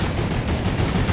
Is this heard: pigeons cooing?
no